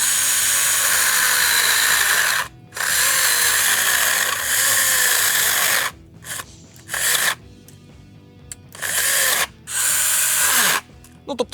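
A Stihl GTA 26 cordless pruning saw cuts into a log in several loud bursts, its high whine starting and stopping repeatedly with short silent gaps between cuts.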